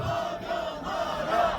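A protest crowd in front of the Chungbuk provincial office in Korea cheers and shouts together, a sustained roar of massed voices heard at a moderate distance, with no single speaker standing out.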